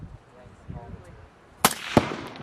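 Two sharp gunshots fired by Marines at a range while neutralizing munitions, the first a loud crack followed about a third of a second later by a second, with faint outdoor background before them.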